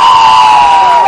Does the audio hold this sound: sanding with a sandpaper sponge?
no